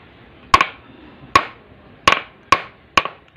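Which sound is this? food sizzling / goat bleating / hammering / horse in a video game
hammering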